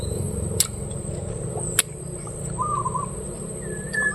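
A bird calls outdoors in a few short chirps and a brief tonal whistle over steady background hum and ambient noise, with no one speaking.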